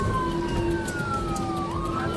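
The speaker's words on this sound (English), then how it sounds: "The police sirens blared as they chased after him" Police car sirens wailing during a chase, rising and falling tones over road noise from moving vehicles, fairly loud and close with no talk.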